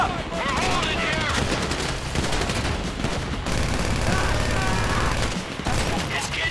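Rapid automatic gunfire rattles in dense, continuous bursts during a Grand Theft Auto V city shootout, loud and close, with voices briefly heard under the shooting.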